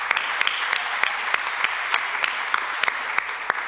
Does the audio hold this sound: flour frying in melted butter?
no